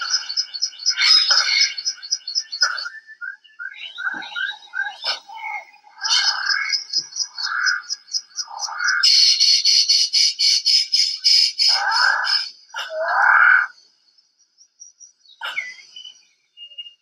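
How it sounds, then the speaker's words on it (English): Birds of paradise in New Guinea calling in loud, repeated squawks and rapid chattering bursts, with harsh rasping notes and sharper whistles trading back and forth through a busy forest chorus. "In the great island of New Guinea, there are 42 different species of birds of paradise"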